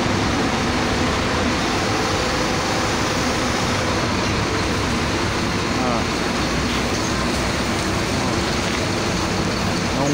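A Volvo-chassis bus, Breda company coach, eases in to park at a busy truck-stop lot in Guararema, São Paulo, a continuous engine and roadway rumble with voices faintly mixed in.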